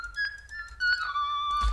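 An E-bow guitar patch from the Flex Essential Guitars instrument plays a soft, sustained, whistle-like tone that glides between pitches. The sound is quiet and heard alone.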